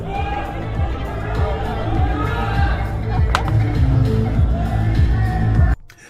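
A large crowd roars and cheers for Elon after shareholders vote yes on his compensation package, a loud sustained wash of shouts and whoops that cuts off abruptly near the end.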